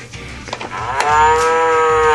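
A single loud, drawn-out cow moo in a barn, rising and holding steady, close by with little else around it.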